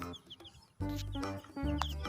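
A rainbow chicken in a cute chicken-catching video game gives short electronic clucks, two bursts over a bright, tinkly game soundtrack.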